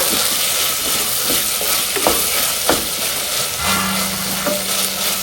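Ginger and garlic pieces fry in oil for a mutton gravy, giving a continuous bright sizzle with light stirring clicks and scrapes, close and steady, with no speech.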